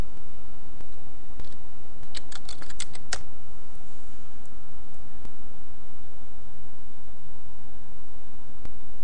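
Fingers type on a computer keyboard, a quick cluster of crisp key clicks followed by sparse scattered taps over a steady background hiss, close and alone without talk.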